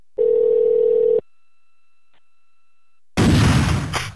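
A telephone dial tone hums steadily for about a second, then the line goes quiet before a sudden loud burst of noise that slowly fades.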